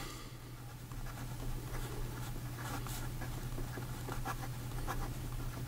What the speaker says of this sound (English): here we go with the writing sample for the Montegrappa